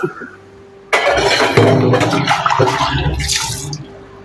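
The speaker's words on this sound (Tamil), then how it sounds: "4 கிளாஸ் தண்ணி விட்டுருக்கேன்" Tamarind water and plain water pour into a pot for one-pot rasam rice, a sudden loud gushing splash that runs a few seconds, with someone talking over it.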